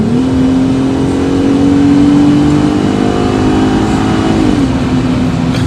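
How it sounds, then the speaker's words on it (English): A 2020 Jeep Gladiator V6 fitted with a Flowmaster dual catback exhaust is revved hard, a loud close drone that holds steady for several seconds before easing down. "Listen to the exhaust."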